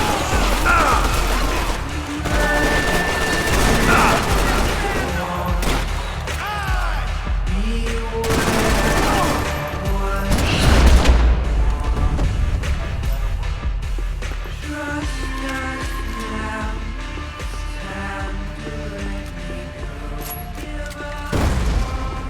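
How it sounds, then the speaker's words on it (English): Grenade blasts and heavy gunfire from the Max Payne 3 video game, with loud booming explosions and rattling automatic fire packed densely over a music and effects bed, continuous and intense throughout. "Just perfect. Grenades."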